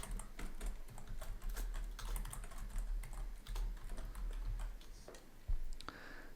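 Rapid typing on a computer keyboard while entering text in a digital signage editor, a steady run of close, crisp key clicks with uneven rhythm and a louder keystroke near the end.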